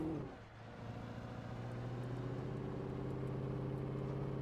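Steady car engine in the Alan Wake video game, dropping briefly then holding a loud, sustained drone as it accelerates, with no talking.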